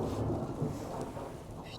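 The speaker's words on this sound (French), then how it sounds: "Le tonnerre, my god." Low rolling thunder rumbles through steady rain at an outdoor equestrian venue, a broad dull roar filling the short stretch with no voices.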